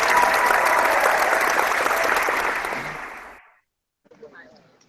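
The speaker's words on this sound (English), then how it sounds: "Please clap." A canned burst of applause plays as a sound effect, a dense crowd clatter that tails off and stops after about three and a half seconds, followed by brief quiet and then a voice starting to speak.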